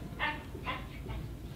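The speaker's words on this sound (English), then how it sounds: "It's a dog." A dog gives a few short, high yips and whimpers in quick succession, heard against a noisy gym background.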